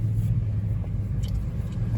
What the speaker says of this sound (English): Car started up right away.